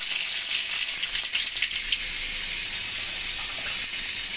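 Mustard seeds sizzle in hot oil for an eggplant curry, giving a steady, moderately loud frying hiss with faint crackles throughout.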